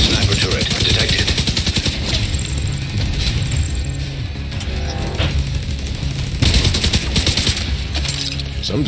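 Video-game turrets fire in dense, rapid bursts of gunfire with mechanical clatter, loud and continuous across the whole stretch.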